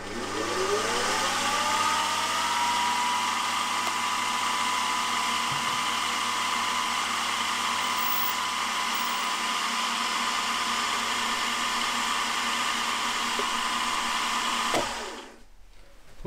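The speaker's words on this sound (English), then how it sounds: "I've just drilled through with a 5/32 drill bit" A 5/32 drill bit bores through metal on a lathe-type machine while making a carburettor body, giving a steady, loud whirring hum with a rising whine at the start, running unbroken for about fifteen seconds before stopping abruptly.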